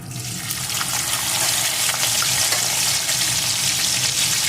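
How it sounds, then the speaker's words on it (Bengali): Chopped onion fries in hot oil in a pan with panch phoron spices, giving a steady, loud, continuous sizzle throughout with no talk. "এটাকেও একটু ভেজে নেব পেঁয়াজটা একটু ভেজে নিয়ে"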